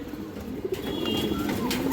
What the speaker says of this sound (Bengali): এই কৌতরটা লালচুল্লি কবুতর পুরান লাইনের কৌতর